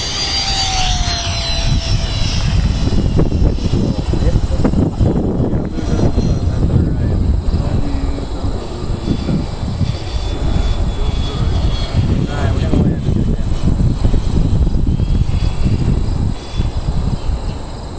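Great Planes Synapse RC plane flying a low pass during its hand-launched maiden flight, a loud steady electric motor whine outdoors with insects chirping and people talking nearby.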